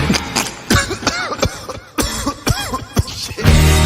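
Several harsh coughs come in bursts, loud and close, with gasping breaths between and a rough throat sound at the end.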